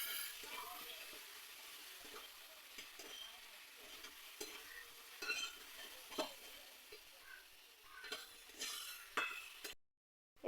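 Cut potatoes are stir-fried in a pan with a spoon, giving soft sizzling under scattered scrapes and clinks at an irregular pace, quiet and close, then a sudden stop near the end.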